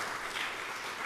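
A church congregation at a Sunday evening service claps for a newly married couple, with a brief, soft burst of even, distant-sounding applause.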